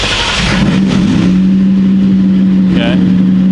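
A 1999-2004 Ford Mustang engine cranks and catches, then settles into a steady, loud, close idle drone that holds to the end.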